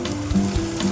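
Spice paste sizzles in hot oil with onions for a jackfruit and prawn dish, a brief close hiss broken by a couple of soft stirring knocks.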